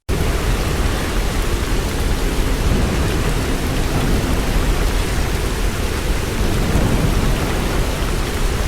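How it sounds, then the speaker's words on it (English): Heavy rain and strong winds from Typhoon Krathon's violent eye wall lash the coast near Kaohsiung, southern Taiwan, as one loud, dense, unbroken roar of downpour and gusts from start to finish, with no voices. "Due to the strong winds and heavy rain"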